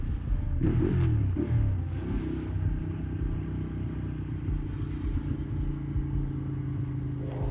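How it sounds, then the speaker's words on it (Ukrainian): A Yamaha MT-09 motorcycle rumbles close by, its engine note loud at first and then holding a steady low drone, with clattering road noise and no talk. "Хлопчина на МТ 9"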